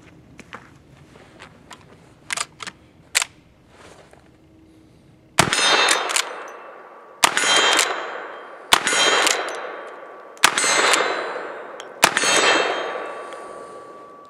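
An Uberti 1866 Yellowboy carbine fires downrange: light mechanical clicks and handling, then five loud, sharp shots spaced a couple of seconds apart, each with a ringing, decaying tail, no speech.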